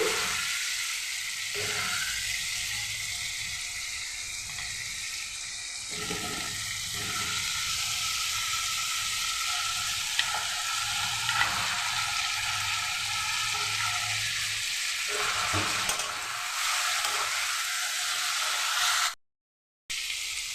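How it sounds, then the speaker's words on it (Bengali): Vegetables are dropped into hot oil with fried spices for a vegetarian curry and set off a loud, continuous sizzling hiss. The hiss is broken briefly by stirring and stops abruptly near the end. "মশলাটা আমার ভাজা হয়ে গেছে তেল ছাড়তে শুরু করেছে এখন আমি সবজিগুলো দিয়ে দিচ্ছি"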